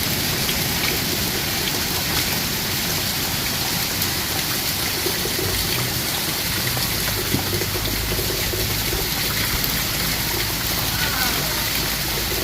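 Rain falls steadily over a garden ahead of a storm, a continuous close hiss of drops with no pauses and no clear voices.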